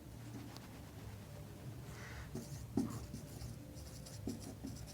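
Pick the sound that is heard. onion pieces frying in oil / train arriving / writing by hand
writing by hand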